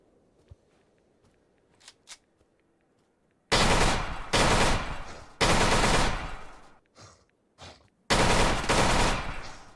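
Bursts of automatic gunfire from a video game, loud and close, several long sustained volleys separated by short pauses, with a few faint isolated sounds before the shooting starts.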